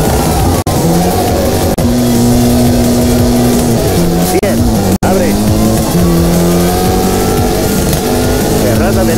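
Ford Fiesta RS WRC in WRC3 on a Monte Carlo rally stage, heard from the cockpit, its engine revving loudly and steadily with shifting pitch and tyre scrubbing through a handbrake turn, while a co-driver's voice calls notes over it.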